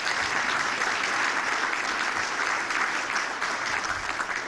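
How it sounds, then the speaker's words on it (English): Steady applause from a breakfast audience fills the room, dense and even throughout, with no break in the clapping. "Give her a round of applause"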